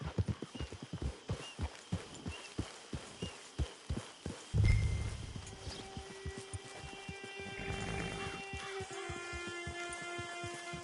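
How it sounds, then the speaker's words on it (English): Horse hooves clip-clopping in Red Dead Redemption 2, a run of crisp regular hoofbeats that stops with a loud snort or whinny, followed by a quieter game ambience with sustained tones. "It's your horse"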